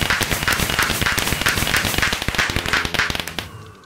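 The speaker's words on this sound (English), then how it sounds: "It's like a firecracker in real life!" Firecracker exploding in the video game Dissent, a loud continuous stream of sharp crackling pops and snaps that runs for over three seconds before cutting off abruptly near the end.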